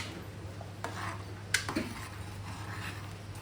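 Chole masala stirred into chickpeas in a pan, with soft scraping of a spoon and a few light metallic clinks against the pan over a steady low hum, quiet and close.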